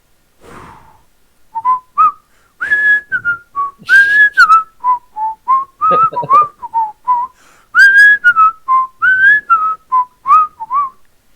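A person whistles the Andy Griffith Show theme: a clear, close, loud melodic tune in short phrased notes with brief gaps, carried alone without talk.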